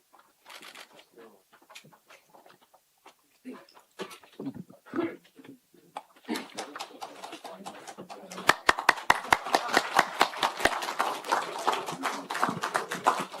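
Clapping in a National Assembly hall starts sparse and builds into loud, dense applause, with talk and shuffling beforehand and a few sharp close claps.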